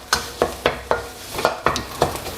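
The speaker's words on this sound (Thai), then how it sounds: "ค่อยๆผัดนะครับ ให้พริกแกงเขาสุกนะครับ" Curry chili paste stir-fried in oil in a pan over medium heat, heard as a steady run of sharp scraping stirs about every quarter second with a light sizzle underneath, close and alone.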